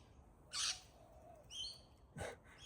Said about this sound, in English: the birds are very loud today